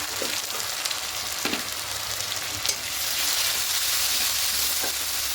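Ginger, green chili and garlic paste sautés in hot oil in a pan, a loud, dense, steady sizzle with occasional stirring knocks, and it swells slightly louder partway through.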